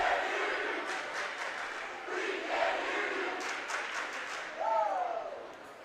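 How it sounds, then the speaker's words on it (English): Student cheering sections at a high school volleyball playoff game between Eau Claire Memorial and Eau Claire North, a loud sustained crowd roar with rising chants and yells filling the gym, and a commentator talking over it. "the student cheering sections, they're ready for the playoffs"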